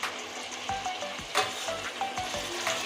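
Chopped tomato and a whole garlic bulb dropped into chicken frying for a Bengali chicken kosha, a steady close sizzle broken by repeated spoon scrapes and knocks against the pan.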